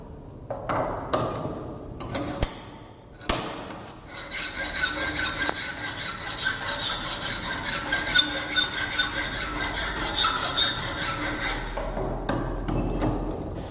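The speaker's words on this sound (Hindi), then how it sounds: "फाइल के द्वारा मेटल के ऊपरी सतह को चिकना करते हैं" A hand file scrapes back and forth across a metal workpiece in an ITI fitter workshop, a few sharp knocks first, then a steady loud rasping that runs on for nearly ten seconds.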